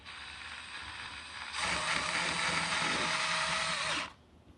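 A power drill drives self-drilling screws into a rubber seal, a steady close whirring grind that rises in intensity for a few seconds and then cuts off abruptly, with no talk.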